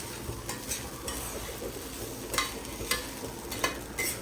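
Two spoons of oil heat in a pan with a steady crackling sizzle, and a utensil clinks and scrapes against the metal now and then as it stirs.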